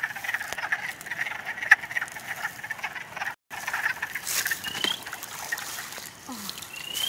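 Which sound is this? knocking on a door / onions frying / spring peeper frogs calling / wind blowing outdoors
spring peeper frogs calling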